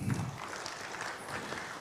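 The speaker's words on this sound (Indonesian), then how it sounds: "Tepuk tangan untuk Polri." Applause for the Indonesian national police during a conference presentation in a large hall, a soft, steady wash of many hands clapping at a distance.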